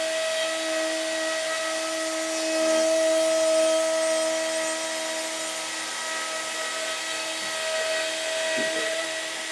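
A Shaper Origin CNC router engraves wood with a Festool vacuum attached, producing a loud, steady high-pitched whine with a constant vacuum drone, rising and dipping slightly as it cuts.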